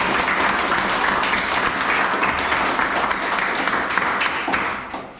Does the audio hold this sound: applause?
yes